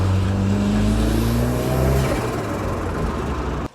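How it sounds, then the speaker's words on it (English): Ford Cosworth engine fitted with a K&N air filter, running loud and close with a steady low harmonic drone that shifts in pitch partway through, then cuts off abruptly at the end. "when I change gear on this car, it makes like a flutter."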